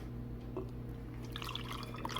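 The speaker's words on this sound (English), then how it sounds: "So now I'm going to pour what I got left." Rendered fat being poured through a funnel into a mason jar while making pemmican, heard as faint, close dripping and trickling over a steady low hum, with no talking.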